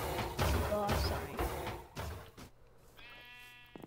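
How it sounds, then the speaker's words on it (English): Minecraft sheep bleat twice near the end after a stretch of overlapping game sounds and clicks, the bleats clear and close. "here is his sheep army"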